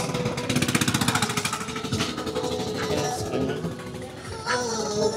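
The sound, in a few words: motorcycle engine running nearby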